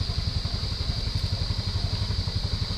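A motorcycle engine idles nearby with a steady, rapid low chugging pulse, continuous and fairly quiet, with no one talking.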